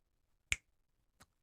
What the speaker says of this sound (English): snap your fingers, and we're all better now, right?